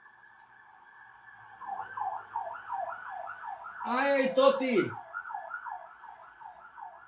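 An ambulance siren wails in a repeating rising-and-falling pattern, steady and moderately loud, while a voice briefly exclaims over it midway.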